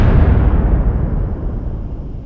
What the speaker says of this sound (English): this explosion, demolition, large, deep blast, dynamite